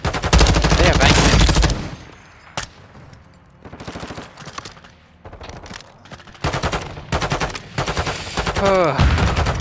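Loud, dense bursts of automatic gunfire and sharp single shots from the Call of Duty Modern Warfare 2 campaign, rattling in rapid volleys with short lulls between them.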